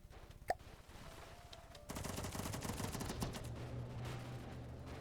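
A quad machine gun turret fires in the video game From the Depths, breaking into a rapid, continuous burst of gunfire after a brief quieter stretch and keeping up a dense rattling stream until the end.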